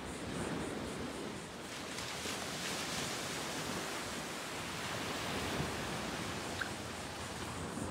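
Ocean waves washing onto a sea turtle nesting beach, a steady broadband surf roar with gentle swells, close and unbroken, with no voices.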